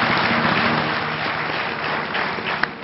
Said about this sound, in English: give a big round of applause to all our dear professors